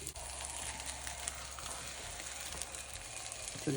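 A broccoli omelette frying in a hot pan gives off a steady, even sizzle, a soft continuous hiss with no talking over it.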